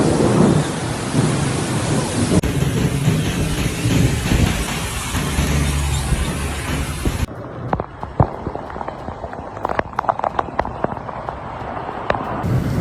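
Thunderstorm with heavy rain during flooding in Mecca, Saudi Arabia: a dense, steady roar of downpour fills the first half, then sharp crackling cracks and rumbles of thunder burst out over continuing rain, loud and close.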